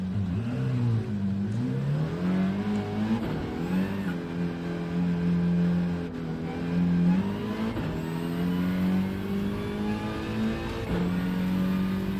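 A Volkswagen Scirocco race car engine revs continuously in a racing video game at Yas Marina, its loud droning tone rising and falling with the throttle and gear changes.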